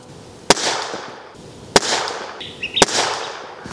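Three sharp rifle shots from a Tikka T1X firing CCI standard ammunition, spaced about a second apart, each a loud crack trailing into a brief outdoor echo.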